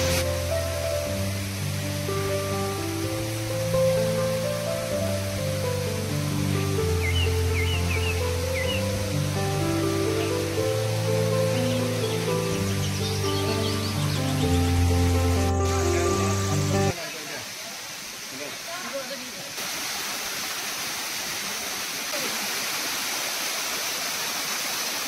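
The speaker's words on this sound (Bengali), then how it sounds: "তো দেখো ঝর্ণাটা।" Hidden waterfall in a forest near Kokrajhar: music plays for most of the stretch, then a broad, steady rush of falling water takes over, fairly loud and unbroken to the end.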